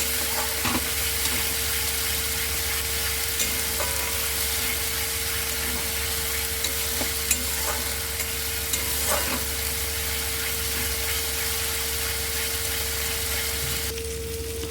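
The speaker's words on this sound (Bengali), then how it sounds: "পেঁয়াজ আর আদার যে পেস্টটা বানিয়ে রেখেছিলাম সেটা দিয়ে ভালো করে নেড়ে চেড়ে এটাকে ভেজে নেব" Onion and ginger paste frying in a wok, a steady soft sizzle running throughout with occasional light scrapes and clicks of stirring, moderately quiet and unbroken with no talking.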